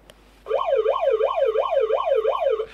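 A siren sound effect wails in quick rising and falling sweeps, about six cycles, loud and clear, then stops abruptly.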